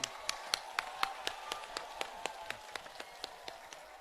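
A crowd at a 2024 Lok Sabha election rally in Buxar, Bihar, applauds to welcome Mayawati. Faint, steady rhythmic clapping with evenly spaced sharp claps runs through the whole stretch.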